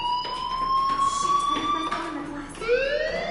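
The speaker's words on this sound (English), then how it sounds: "Hey, do you hear that fire alarm?" School fire alarm ringing in the video game Life is Strange, a loud sustained electronic alarm tone that slides and steps in pitch, with a voice talking over it.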